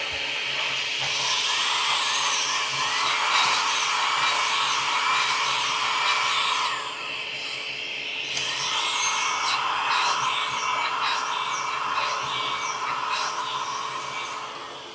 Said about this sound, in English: we're going to drill 2 inches